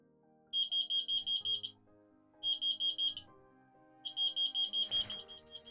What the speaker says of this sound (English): lights go out and the beeper will sound